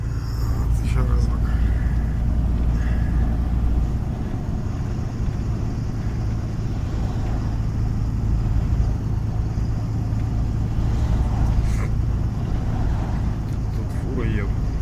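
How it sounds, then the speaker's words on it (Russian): Oncoming semi-truck passing on an evening road in snowy weather, heard from inside a moving car as a steady low rumble of engine and road noise that swells slightly, with a person talking over it throughout. "Тут фура едет встречная"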